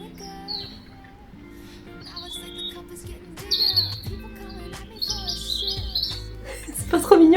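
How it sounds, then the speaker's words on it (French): A small decorative product plays bird chirps: light, repeated tweets and trills over a quiet background, with a soft voice talking beneath in places. "Et vous avez aussi des sons. Donc, genre des sons d'oiseaux."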